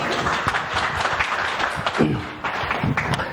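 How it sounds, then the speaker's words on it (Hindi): An audience at a stage event applauds a guest being invited up, a continuous crowd clapping with a few louder hits and voices mixed in underneath. "तालियां।"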